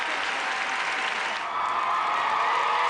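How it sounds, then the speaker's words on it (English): Arena crowd in Quebec City cheering and applauding as a Canadian figure skater takes the ice at Skate Canada, a broad, sustained roar of clapping and cheers that swells slightly toward the end. "Listen to the crowd here in Quebec City for Joanie Rochette"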